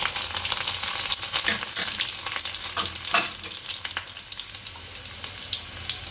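Cumin seeds and chopped garlic pieces sizzle in hot oil for a Gujarati stuffed gunda curry, a steady close crackling hiss with a few sharper pops and stirring scrapes throughout.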